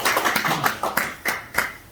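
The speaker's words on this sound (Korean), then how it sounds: "우리 저희 클럽장님한테 박수 한번" A small group applauding a club leader at a business meeting, with several uneven claps and taps spaced across a short moment, fairly close and without speech.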